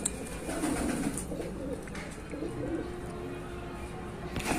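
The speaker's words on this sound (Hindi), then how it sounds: "इतने खूबसूरत कबूतर हैं" Shahjahanpuri high flyer pigeons coo softly in their loft, low throaty murmurs repeating in short bursts over a faint background hum, close but quiet.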